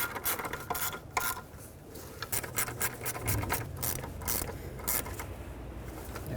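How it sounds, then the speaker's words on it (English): A ratchet tightens the two 10mm bolts holding the EGR valve on a 1998–2011 Ford Ranger 4.0L V6, giving bursts of quick clicking and rasping with some metallic scraping, close and fairly quiet, with no talk. "Now let's tighten up this EGR valve onto the intake."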